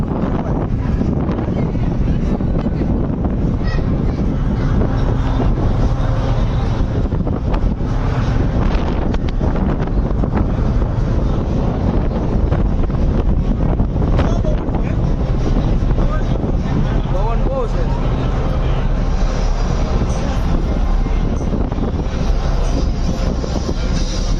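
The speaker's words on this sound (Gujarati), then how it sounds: "પવન છે" Strong wind buffets the microphone on the open upper deck of a Surat–Ghogha ro-ro ferry, a steady loud rumble and roar lasting throughout with a low engine drone underneath.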